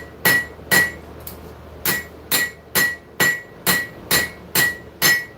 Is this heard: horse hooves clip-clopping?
no